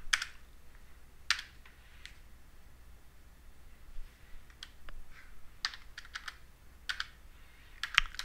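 Clustered clicks of a computer keyboard as a root password is typed, irregular bursts of keystrokes with pauses between, close and fairly quiet over a low hum.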